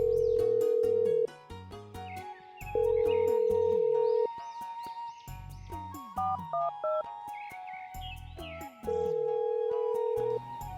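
A phone line rings after a number is dialled, a steady buzzing tone repeating in bursts about a second and a half long, with background music playing throughout.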